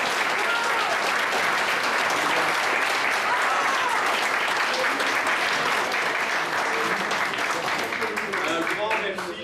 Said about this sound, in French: Merci à tous les Canadiens et je vous demande de les applaudir.